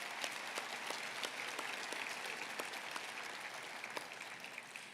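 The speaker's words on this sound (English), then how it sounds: "I think we do need to give our team a round of applause." An audience at a city State of the Address event in Nampa breaks into steady applause, a dense wash of many hands clapping at moderate distance, sustained and even for the full five seconds.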